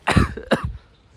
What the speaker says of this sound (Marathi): मला जाम बेकार खोकला आले लय बेकार